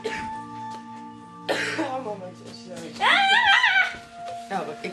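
Someone coughs and clears their throat in a few short, close bursts, mixed with brief vocal sounds in an indoor setting.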